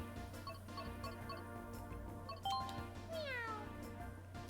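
Cat Peach meows in Mario Kart 8 Deluxe, giving a single bright, rising-then-falling meow over steady game music with light ticking sounds.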